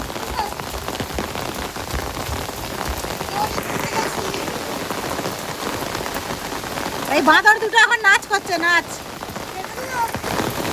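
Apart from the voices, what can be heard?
heavy rain falling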